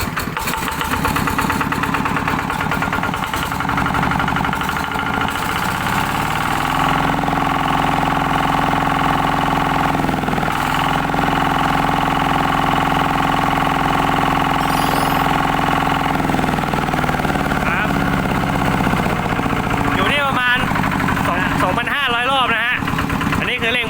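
A stock Kubota or Yanmar small diesel engine, before a governor spring upgrade, runs loud and close, idling and then revving in rising and falling surges, with a voice speaking over it.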